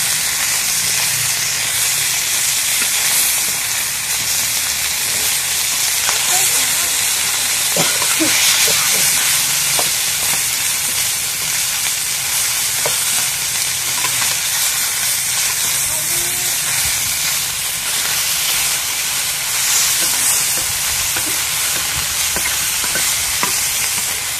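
Steady, loud sizzling of fish frying in a pan, with occasional scraping taps of a spatula and faint background voices, continuous throughout.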